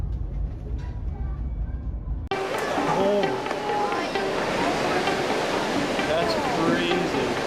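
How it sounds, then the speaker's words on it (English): Storm waves wash over a cruise ship deck in a heavy, continuous roar of rushing water, loud and close, following a cut from lower rumbling wind noise, with voices chattering faintly underneath. "Powerful waves are flooding the deck."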